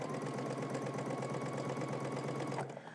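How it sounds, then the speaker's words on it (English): A sewing machine stitches a side seam at 5/8 inch allowance in a fast, steady mechanical whir. It stops abruptly near the end. "we're gonna stitch until we get to the dot and then back stitch"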